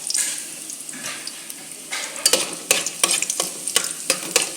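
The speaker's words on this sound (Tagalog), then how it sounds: "pabrownin natin ang ating bawang para masarap at malinamnam" Garlic browning in a pan, a steady sizzle broken by repeated scraping strokes of the spatula as it is stirred, with no talking.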